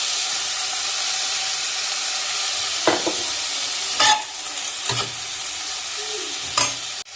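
Grapes fry in a pan with salt, turmeric and chili for a grape pickle, giving a loud continuous sizzle with a few sharp stirring scrapes and clinks of a spoon against the pan.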